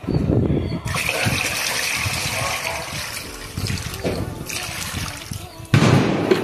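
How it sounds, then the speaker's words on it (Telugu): Water gushes and splashes into a container, a loud continuous rushing that eases midway then surges again near the end. "ఇదిగోండి నీళ్ళు టబ్లో పోసాను కదా, మొత్తం కలుపుకున్నాను."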